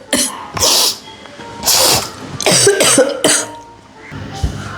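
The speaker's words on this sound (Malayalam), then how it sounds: "നല്ല ചുമയാണല്ലോ" A woman with a cold coughs repeatedly, several harsh, loud bursts close to the microphone in quick, uneven succession, alone without talk.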